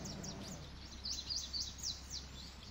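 Birds in the Jurassic Park: Operation Genesis park game chirp in a string of short rising tweets, faint and light over a low ambient hum.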